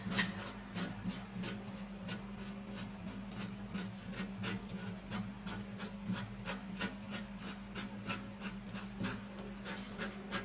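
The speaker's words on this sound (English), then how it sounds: "So we're just going to be scraping it just little by little like this." Inside of a banana peel being scraped with a utensil: a steady series of short, rhythmic rasping strokes, roughly two per second, close and quiet over a faint hum, continuing evenly with no talking.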